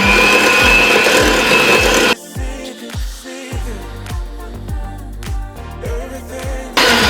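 An electric mixer beats eggs into pecan chocolate chip cookie dough with a loud, close mechanical whir, dropping into choppy, rhythmic thumping bursts as the dough churns, then rising to full speed again at the end, with no talking.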